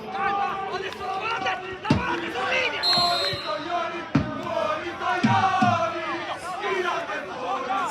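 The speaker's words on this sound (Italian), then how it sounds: "i cori, i tifosi ospiti" Away football fans chant in the stands at an Eccellenza Sicilia match between San Giorgio Piana and Kamarat. A continuous crowd chant sits beneath a commentator talking throughout, with a few sharp thuds scattered in.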